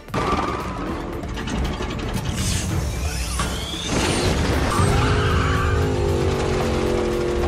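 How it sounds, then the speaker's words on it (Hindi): A race car boosted with nitrous accelerates hard, a loud sustained engine roar with rising whines, mechanical clatter and tyre squeal, the pitch climbing steadily as the car speeds up, with no talk. "वी वॉन्ट मोर स्पीड, इसलिए हम लगा देंगे उसके इंजन के अंदर नॉस।"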